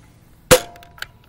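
A Nerf Rival Mercury blaster fires a foam ball once with a sharp, close pop, followed by a faint mechanical click a moment later.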